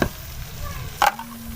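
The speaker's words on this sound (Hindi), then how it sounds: "अब हम इसके अंदर डाल देते हैं शिमला मिर्च और फिर इसको अच्छे से भुनाई कर लेते हैं।" Capsicum and potatoes stir-frying in a pan under a low steady sizzle, broken by one brief clattering scrape of the spoon, close by, with no one talking.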